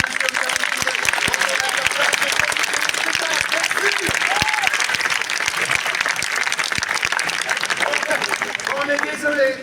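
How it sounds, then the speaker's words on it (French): A theatre audience applauds after a show, with dense, steady clapping filling the space throughout, a few scattered cheers and voices rising from the crowd. "On peut encore l'applaudir comme il se doit."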